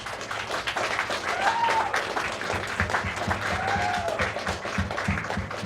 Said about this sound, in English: I'd also like to thank a round of applause for Lori, Richard, and Amber